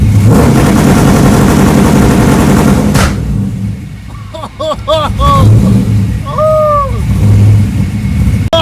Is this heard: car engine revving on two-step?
yes